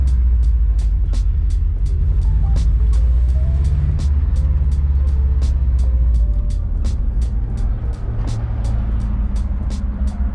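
A Subaru Impreza 22B STi drives along with a loud, close engine and road rumble, while a regular sharp ticking repeats roughly every third of a second throughout.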